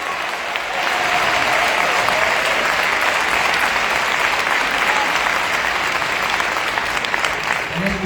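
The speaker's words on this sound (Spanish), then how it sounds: "Todos estos aplausos son para ti" Loud, continuous applause from a conference crowd at a company event, sustained at an even level throughout with no break, filling the hall.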